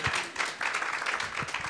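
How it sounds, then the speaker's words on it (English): Audience at an annual grants giveaway evening claps as a board vice president walks up to give the welcome, a dense, moderately loud spread of hands throughout with no talking. "You can clap while he comes up."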